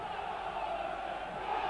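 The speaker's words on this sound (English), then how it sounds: "they responded with a terrific shout of "Come on, Burnley."" A football crowd at a 2001 Burnley versus Crystal Palace match lets out a loud, sustained chant of support, a dense roar of many voices filling the short stretch.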